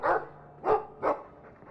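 A dog in the video game Dragon Age II gives three short, separate barks at a moderate level with quiet pauses between them.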